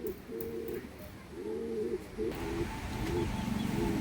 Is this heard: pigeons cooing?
yes